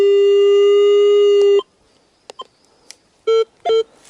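A metal detector in a forest sounds a loud steady tone over a buried find, then cuts off, followed by a few faint clicks and two short repeated beeps.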